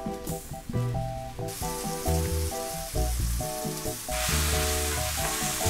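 Mushrooms sauté in a pan with a steady, even sizzle running beneath rhythmic background music for the whole stretch.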